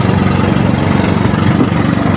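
A dual-engine outboard motor on a banka boat heading to a beach resort runs steadily, a loud, close, buzzing drone with constant vibration and no talk.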